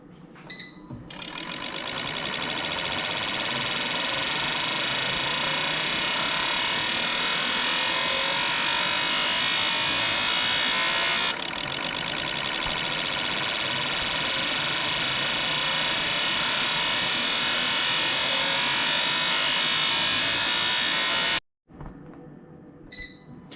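A fuel injector test bench for boat, car and truck injectors runs an accelerating test, giving a loud, steady high-pitched mechanical buzz and rapid clicking that holds for about twenty seconds, then cuts off abruptly.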